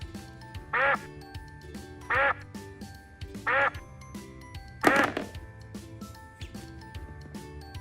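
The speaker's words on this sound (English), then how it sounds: "This is a green duck." A green toy duck gives four distinct quacks spaced about a second and a half apart, clear and close, over a soft background of light electronic music.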